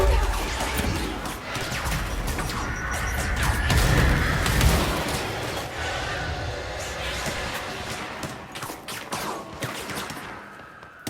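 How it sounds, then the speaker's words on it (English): A grenade explodes in the Control video game on PS5: loud, heavy crashes and debris bursts peak in a deep boom midway, then scattered impacts fade out. "The grenade got me from behind."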